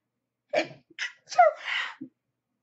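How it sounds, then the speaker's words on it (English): A series of sharp sneezes and snorting bursts in quick succession, close and clear against silence. "Do you really want to hear me sneeze?"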